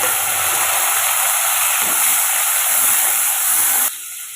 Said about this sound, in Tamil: வெங்காயத்தை நல்லா வதக்கி வச்சாச்சு இப்போ தக்காளியும் சேர்த்துக்கலாம்